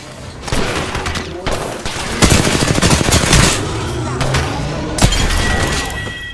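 Gunfire in Apex Legends, loud close bursts of rapid automatic fire with cracking, shattering hits, one long sustained burst in the middle and single sharp shots around it.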